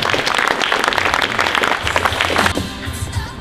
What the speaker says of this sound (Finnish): Raikuvat aplodit hopeametallista.